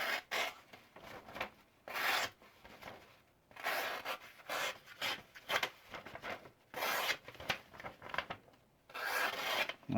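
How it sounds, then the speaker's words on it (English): A CRKT Ripple knife slices through paper, giving repeated rasping, rubbing strokes in short bursts with brief pauses between them. The sound is close and moderately quiet, and no one talks over it. "this is for all the people that just want to see the knife cut through paper"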